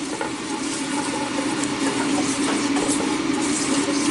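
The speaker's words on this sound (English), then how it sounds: "Turn it off and keep stirring, because the pan is still hot" A hot skillet of shrimp pasta hisses and sizzles steadily as it is stirred, a dense, close frying noise with faint scraping, and no voices.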